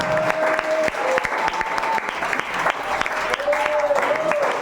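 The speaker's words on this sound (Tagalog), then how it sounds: "Palakpak para sa Diyos, mga isa." A church congregation applauds during a Filipino pastor's sermon on forgiveness, steady dense clapping through the whole stretch while a voice keeps speaking over it.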